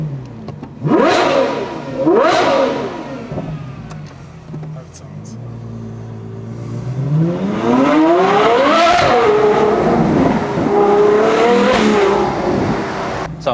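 Ferrari 812 GTS V12 fitted with a new Novitec racing exhaust, revved while stationary: two quick sharp blips, then a longer rising rev that climbs and falls, loud and close.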